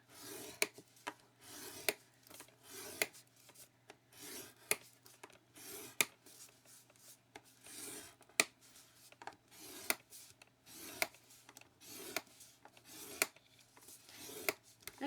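Card stock is scored along a half-inch line with short, quiet scraping strokes repeated in an uneven rhythm, each ending with a faint tick.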